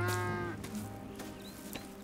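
Cows on a ranch in Red Dead Redemption 2, a clear low moo at the start followed by a shorter second call, moderately close, with faint farm clatter in the background.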